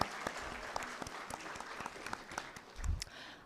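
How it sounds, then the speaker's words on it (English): A graduation ceremony audience applauds in a faint, continuous patter of many hands from a distance, steady throughout. "Please give them a big round of applause,"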